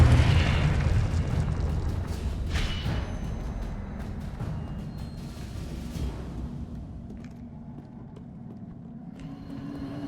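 Fiery blasting-spell explosions in the Hogwarts Legacy video game: a cluster of loud booming bursts up front that gradually fade into a lingering rumble and crackle.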